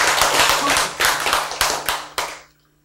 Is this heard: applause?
yes